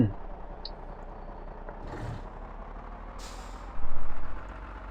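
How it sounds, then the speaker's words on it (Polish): A truck in Hitman 2 rumbles with a steady low engine drone, while short hisses of air brake release burst out twice, with a louder engine surge near the end. "w tej misji hałas, jaki robią ciężarówki"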